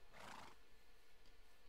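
A voice imitates a horse neighing, a single faint, breathy whinny that fades quickly into a quiet outdoor background.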